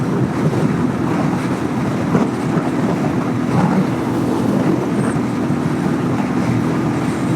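Strong headwind buffets a microphone on a moving Hunter 350 motorcycle, a steady loud roaring rush of wind noise that never lets up.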